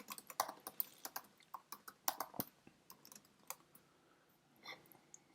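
Key clicks from someone typing an address on a computer keyboard, fairly close and quiet, in uneven bursts with short pauses between groups of strokes.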